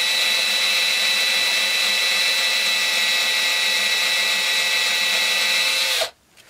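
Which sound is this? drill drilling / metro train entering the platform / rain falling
drill drilling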